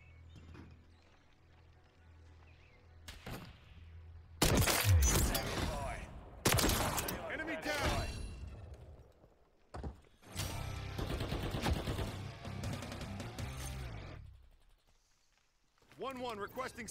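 Sniper shots and gunfire in the video game Call of Duty Modern Warfare III come as several loud bursts separated by quieter stretches, with voices talking throughout.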